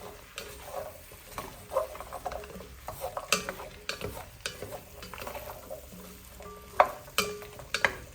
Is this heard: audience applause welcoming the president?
no